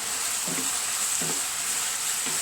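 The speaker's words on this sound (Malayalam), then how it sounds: "ഇനി നന്നായിട്ട് ഇളക്കി. കോവയ്ക്ക് ഇങ്ങനെ ഇടയ്ക്കിടയ്ക്ക് ഇങ്ങനെ തുറന്ന് ഇളക്കിക്കൊണ്ടിരിക്കണം." Ivy gourd curry with chili sizzles in a pan under a constant bright hiss, with three soft scraping stirs of a spoon spaced evenly through it.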